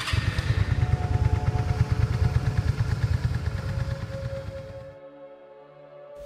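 A Honda Magna 250 cruiser motorcycle engine runs with a steady, throbbing low rumble, loud and close, before it fades away near the end.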